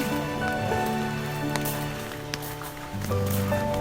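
Rain patters steadily on a surface nearby in Nara, Japan, in autumn, mixed with sustained tonal sounds in the background.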